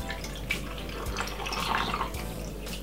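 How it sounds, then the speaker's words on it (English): Water pours into a cucumber juice mixture sweetened with honey, a steady soft splashing and trickling close by that swells slightly toward the end, with no talking. "I'm going to pour some water inside of it"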